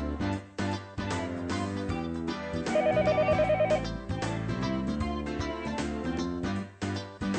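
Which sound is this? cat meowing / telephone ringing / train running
telephone ringing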